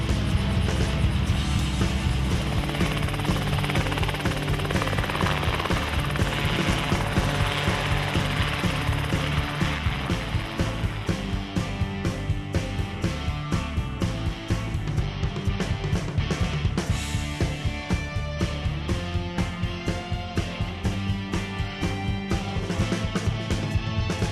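A Rotorway 162F kit helicopter with a 162-cubic-inch, 2.65-litre, roughly 150-horsepower engine flies nearby, its dense engine roar and rapid rotor chop rumbling loudly and continuously.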